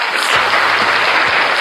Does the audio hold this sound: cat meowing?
no